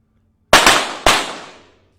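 Two sharp pistol shots crack about half a second apart during a 25 m shooting final on a range, each loud and close with a long decaying ring, and no talking.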